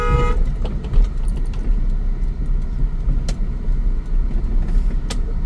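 A car horn gives a short toot at the very start as a car turns in second gear during a driving lesson, followed by steady engine and road rumble heard from inside the car.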